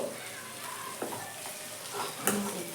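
Sambar fries in a pan with a soft, steady sizzle and occasional stirring scrapes, close by and fairly quiet.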